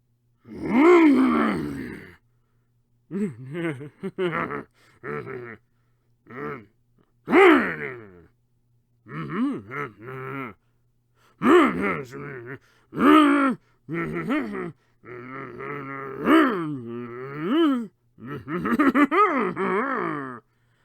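A voice makes a run of deep, guttural grunts and groans in short bursts with pauses, imitating a hulking minotaur character for D&D rather than speaking words.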